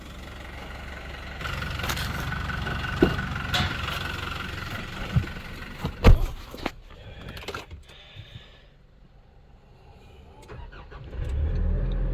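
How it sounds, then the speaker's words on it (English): A truck engine idles and runs at a beach house build site in the Philippines while the truck is moved. It makes a steady low rumble, with a few sharp clunks partway through, and the engine picks up again near the end. "I'll just move my truck out of the way."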